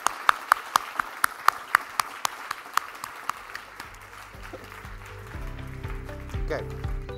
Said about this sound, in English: Please, a clap for our fantastic audience.